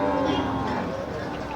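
Cattle low and moo amid the bustle of the Manapparai cattle market, a drawn-out call over crowd noise and nearby chatter.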